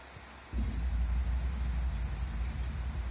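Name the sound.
rain falling on Saab convertible fabric roof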